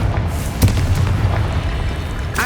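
A loud, booming Confringo spell blast in the video game Hogwarts Legacy, one sharp burst followed by a rumbling tail over a steady low game ambience.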